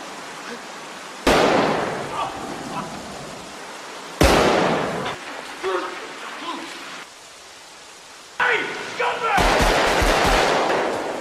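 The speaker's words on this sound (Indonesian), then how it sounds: "Dennis tiba dan kemudian menembak Jimmy beberapa kali hingga mengakhiri hidupnya" Gunshots in a gangster film scene ring out in separate loud bursts with echoing tails, mixed with dramatic score and other movie sound.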